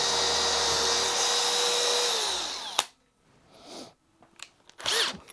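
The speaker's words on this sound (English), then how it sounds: "Second speed on drill, off we go." A combi drill on second speed bores into timber with a loud, steady whine that drops slightly in pitch as it cuts, then stops abruptly, followed by a few faint clatters and rustles.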